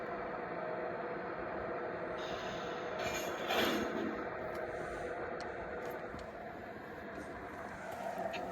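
A G scale model train runs along an outdoor hill layout during switching operations, giving a steady rolling rumble with faint squeals and clicks throughout, close and continuous, with no speech.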